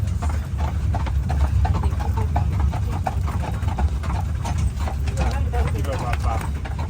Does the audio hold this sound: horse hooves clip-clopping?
yes